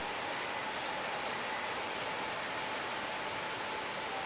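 Continuous broadband rush of a tall waterfall in green forested mountains in Thailand, a steady, even roar at moderate level with no breaks.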